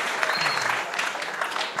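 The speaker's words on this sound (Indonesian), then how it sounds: "Tepuk tangan untuk sahabat kita" Brief burst of crowd applause at a religious gathering, a steady wash of clapping hands, with a voice faintly audible underneath.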